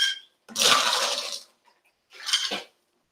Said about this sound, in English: I'm going to fill the mixing glass to the brim with ice.